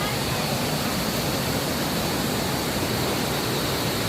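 Sprite Falls waterfall in Majayjay, Laguna, a steady, loud broadband rush of falling water that stays constant and unbroken throughout, close by with no other sounds standing out.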